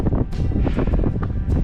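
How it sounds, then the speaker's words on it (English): Wind blows hard at a snowy campsite, buffeting the microphone with a steady low roar and rumble throughout. "it's just windy"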